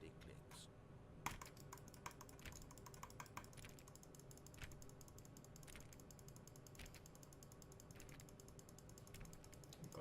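Repeated button clicking in The Stanley Parable video game, a steady run of small sharp clicks ticking through the whole stretch at moderate level over a low background hum.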